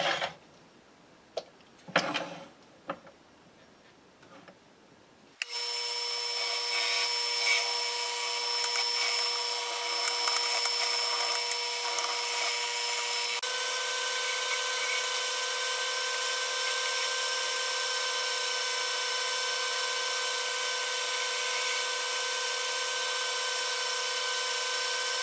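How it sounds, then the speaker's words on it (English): A drill bores a hole into the end of a wooden spinning top. After a few scattered knocks, a loud, steady whine starts and holds for about twenty seconds, then its pitch changes slightly partway through. "now I'm going to drill a hole into the end of the top"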